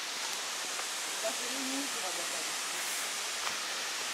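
Kirindi Ella waterfall in Sri Lanka gives off a steady, broad rushing hiss that fills the whole clip, with faint voices briefly audible beneath it.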